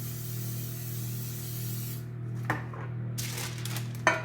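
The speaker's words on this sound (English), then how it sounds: "spray the bottom of the pan" Cooking spray hissing onto the bottom of a round cake pan for a carrot cake, a steady close aerosol spray that stops briefly and resumes, with a couple of light metallic taps from the pan.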